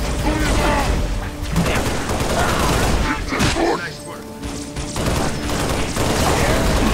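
Gunfire in the Halo Reach level The Pillar of Autumn: dense, continuous shooting and impacts fill the whole stretch, briefly dipping midway, with a voice talking over the battle.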